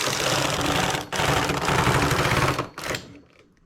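A knitting machine works a 2x2 rib, its carriage rattling and clattering close by in a dense mechanical run with a brief break, sounding strained, then tapering off with no talk.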